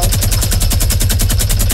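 A minigun fires in the video game Fortnite as a loud, rapid, unbroken burst of evenly spaced shots that pounds away up close for the whole stretch.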